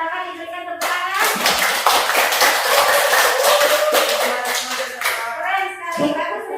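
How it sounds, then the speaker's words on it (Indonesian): Students in a classroom applaud a classmate with a burst of steady, close clapping lasting several seconds, and voices can be heard before and after it. "silakan diberikan tepuk tangan"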